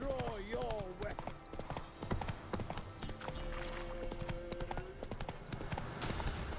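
Hooves of Roach, the horse in The Witcher 3, clop steadily in a fast rhythmic gait, close and loud, over game music and occasional talk.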